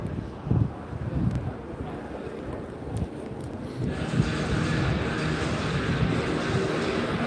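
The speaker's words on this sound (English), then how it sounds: "There's a wind coming in which bites you." Wind buffeting a microphone outdoors at a football stadium during an Everton v Crystal Palace match, a steady rumbling roar that thickens and grows louder partway through, with faint crowd or voice sounds underneath.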